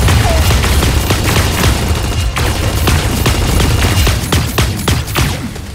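Rapid gunfire in the mecha shooter game Super Mecha Champions, with dense volleys of shots crackling loudly and steadily under a constant wash of battle noise.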